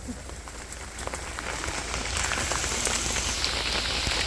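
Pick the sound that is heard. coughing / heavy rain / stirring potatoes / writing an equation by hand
heavy rain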